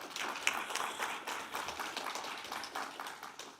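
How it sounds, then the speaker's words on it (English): Large graduation ceremony crowd applauding the graduates, a dense, steady wash of many hands clapping throughout, moderately distant and even in level with no voices standing out. "So a big applause for you, graduates."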